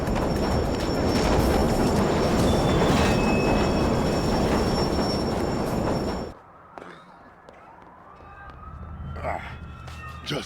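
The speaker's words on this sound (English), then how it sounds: "you can win the fight by throwing them on the train tracks at the exact moment the train comes through" A subway train thunders through a station in the video game Def Jam Fight for NY, a loud dense rumble that cuts off abruptly, followed by quieter scattered clatter and a faint rising squeal.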